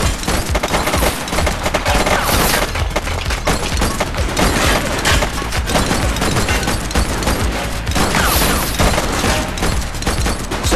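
Gunfire in The Precinct police game, continuous loud bursts of rapid shots and booms filling the whole stretch without a break.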